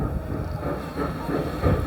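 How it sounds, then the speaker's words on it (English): Small novelty train on Blackpool North Pier rolling along slowly, a steady low rumbling clatter that swells slightly near the end, fairly close, with no talk. "Behold the little train."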